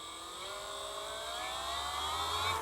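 A Milwaukee M12 FUEL 6 inch random orbital sander runs with a steady high whir, its pitch slowly climbing as it is throttled up, close and alone without speech.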